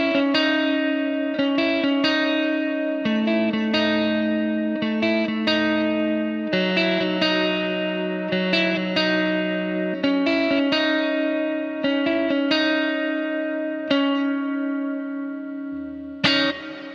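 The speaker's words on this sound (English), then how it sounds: "So stacking this many reverbs, it sounds pretty good." Clean guitar chords and single notes through three stacked reverb blocks on a Quad Cortex ring out in a slow sequence, long layered tails blurring into a lush ambient wash.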